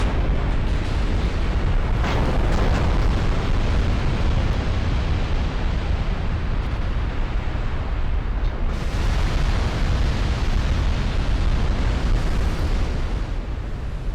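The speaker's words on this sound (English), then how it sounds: "Secondary guns. So many shells going everywhere from the American fleet." Naval secondary guns in a video game hurl a steady barrage of shells from an American fleet, a dense, unbroken roar of overlapping booms and bursts with sharper cracks near the two- and nine-second marks, loud and sustained without talk.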